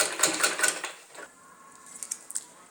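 A sewing machine stitches a net jacket blouse in a brief, close run of quick mechanical clatter, then stops, leaving only a few faint clicks.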